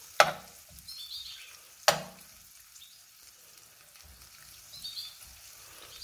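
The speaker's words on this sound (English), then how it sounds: "melt the butter in the pan" Butter melting in a pan gives a faint, quiet sizzle, broken by two sharp clicks or taps near the start and middle.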